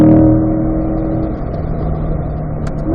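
Race car engine holding a steady drone in fourth gear on a hot lap, loud and continuous with a sustained low hum, close and unbroken with no talk over it.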